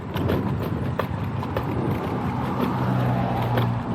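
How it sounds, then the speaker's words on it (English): Suspension on an EMOVE Touring commuter electric scooter knocks as it rides over bumps, a few light irregular thuds under steady road and wind noise. "You can hear that suspension hitting."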